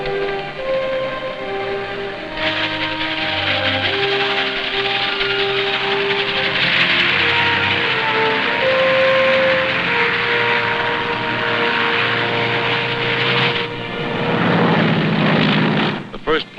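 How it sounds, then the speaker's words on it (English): A propeller airplane lands on the Tarawa airstrip in 1944, its engine droning loud and steady before it fades out, with narration heard over it. "The first plane landed just 24 hours after the Seabees had started to work."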